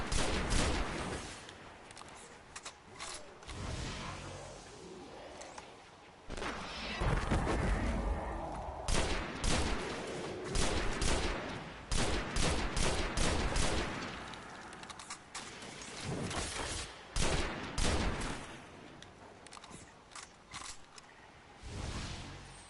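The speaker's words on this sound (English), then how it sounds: "I'm really not a fan of these fusion burst rifles, but it's interesting." A fusion burst rifle in the video game Destiny fires in loud, close, clustered bursts of sharp energy shots, repeated irregularly amid booming impacts and heavy battle noise.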